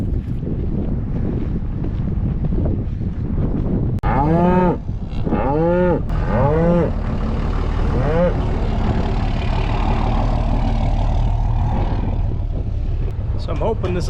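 Cattle on a farm in spring lowing loudly nearby, several drawn-out moos in quick succession, heard over heavy wind buffeting the microphone and a low engine-like rumble.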